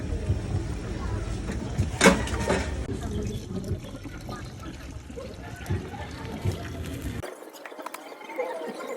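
Water pours steadily into a cooking pot of sautéed onion, garlic and tomato for mung bean stew, a continuous trickling fill at close range, ending abruptly near the close.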